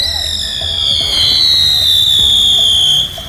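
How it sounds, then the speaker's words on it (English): Fireworks pop in a park, a few faint distant bangs beneath a steady high-pitched whine, with voices murmuring nearby. "Yeah, I'm popping fireworks."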